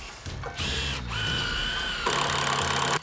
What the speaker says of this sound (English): you can feel the drill slip.